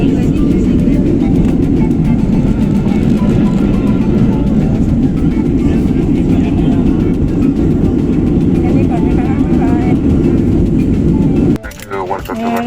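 An airliner lands at snowy Berlin airport, its loud, steady cabin roar filling the clip while someone talks over it, and the noise drops away abruptly near the end.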